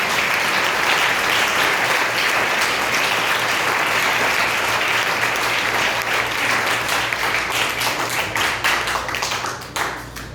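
A church congregation at a Sunday service applauds loudly, dense steady clapping filling the room for about ten seconds before thinning out at the end.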